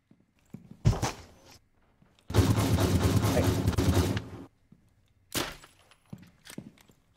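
Loud gunfire bursts in the Rainbow Six Siege video game: a short shot, then a sustained roar of automatic fire lasting about two seconds, a later single blast and scattered thuds, with no talk during the shooting.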